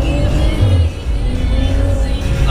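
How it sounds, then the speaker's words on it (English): Car exhaust rumbling while driving with the windows down, a deep continuous low drone with a brief throatier swell, loud and close with road and wind noise, no talk. "The exhaust note sounds awesome."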